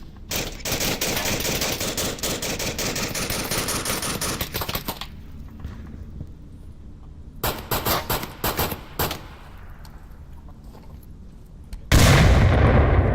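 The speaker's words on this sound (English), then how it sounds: "Shots being fired, they can see them." Gunfire in the VR shooter Onward during a competitive match: dense rapid automatic bursts for several seconds, a pause, then more clustered volleys and a loud blast at the end.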